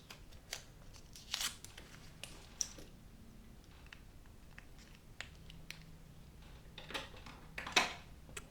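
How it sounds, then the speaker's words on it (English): Scissors cut through a paper visitor badge at a planner desk, a few quiet snips spaced across several seconds, close but faint, with no talking. "So I'm just gonna cut off the school information."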